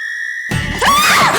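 A woman screams loudly at close range, a sharp, piercing cry that breaks in suddenly after a brief tone and rises in pitch and intensity, with no speech.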